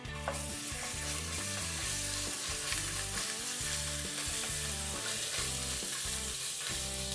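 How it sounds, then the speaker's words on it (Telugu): Onions frying in a pan with ginger-garlic paste, a steady, loud sizzle with a low rhythmic pulsing underneath, continuous and close throughout without any voices. "ఉల్లిపాయలు ఇలా మంచిగా వేగాలి ఇప్పుడు ఇందులో అల్లం వెల్లుల్లి పేస్ట్ ఒక వన్ అండ్ హాఫ్ స్పూన్ వేసుకోవాలి"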